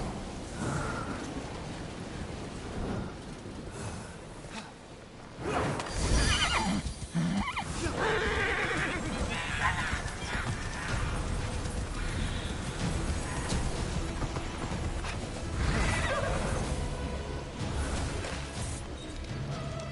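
Horse neighing and whinnying in a video game, with clip-clopping hooves, set against a dense, steady layer of game sound that swells around the middle and stays loud throughout.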